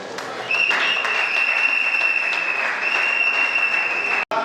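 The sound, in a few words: audience applauding at a ceremony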